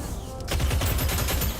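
Rapid automatic gunfire from an assault rifle in the sci-fi shooter Deadzone: Rogue, a loud, dense burst of shots starting about a third of a second in and running steadily to the end.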